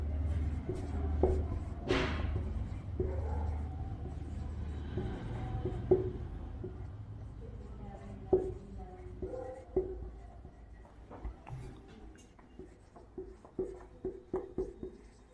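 Marker or chalk writing on a board during a power electronics lecture on semiconductor devices and chopper circuits, heard as scattered taps, squeaks and scratching strokes at close range, with some faint shuffling in between.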